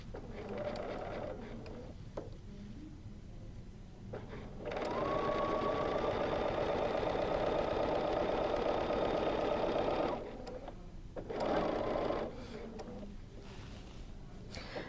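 A BERNINA sewing machine does free-motion quilting with a ruler, running in short whirring bursts and then a long steady run of rapid stitching, close and clear, separated by quieter pauses.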